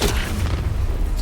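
An Expelliarmus spell cast in Hogwarts Legacy lands as a dull, rumbling boom that rolls on for over a second, loud and heavy in the low end, with no talk over it.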